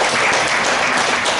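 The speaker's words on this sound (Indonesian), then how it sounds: "Tepuk tangan untuk kita sekalian." Audience at an interfaith prayer gathering in a hall claps in a dense, steady burst of applause, loud and close, with no talk over it.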